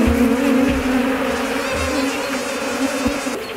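Dense, steady buzzing of many honeybees clustered close together at a hive, a continuous droning hum with no talking.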